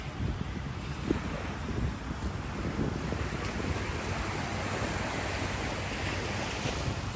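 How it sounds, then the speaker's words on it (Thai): Strong ocean surf at Rawai Beach, Phuket, roars continuously, a dense steady wash of breaking waves with wind buffeting the microphone, no voices. "วันนี้คลื่นแรงมากค่ะ"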